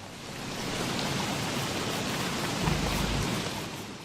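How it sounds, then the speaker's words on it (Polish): Rain and thunder in the video game Don't Starve: a steady, dense hiss of rainfall with a low rumble of thunder swelling briefly near the end, no voices. "Znowu piorun?"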